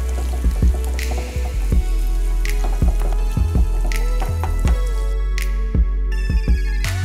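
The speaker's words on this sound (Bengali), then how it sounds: "এখন এটাকে ভালোভাবে আমি এই তেলের সাথে মিক্স করে নেব।" Mashed green banana being stirred into hot oil for a Bengali vorta, giving close, soft squishing and wet dripping sounds in a steady, irregular rhythm with no talking.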